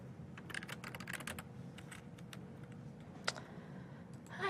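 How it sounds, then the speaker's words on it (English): Rapid, uneven keystrokes on a computer keyboard run in bursts with short pauses, one sharper key strike standing out, quiet and close against a low background hum. "I'm just having a lot of trouble typing"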